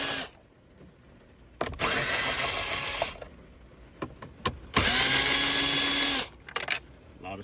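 Power drill driving out the many screws on a car dash radio panel during a Metra kit fix, two sustained whirring bursts of about one and a half seconds each, with short clicks and rattles between them.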